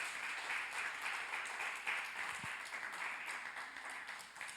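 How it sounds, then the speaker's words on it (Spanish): A church congregation applauds during a general worship service. The clapping is faint and distant, an even, continuous wash of many hands without pause. "si le va a dar un aplauso al Señor, déselo con todo honor y con toda gloria"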